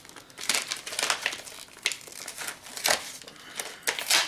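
Plastic and cardboard packaging around a facial hair trimmer is torn and unwrapped up close, giving irregular bursts of crinkling and crackling with short pauses between handfuls.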